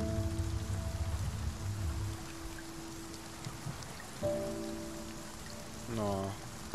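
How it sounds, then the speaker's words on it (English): Soft, steady rain hiss in the video game Spiritfarer runs under quiet tonal game music and chimes, with a rising sequence of notes near the end. "No, I love the sound of the rain."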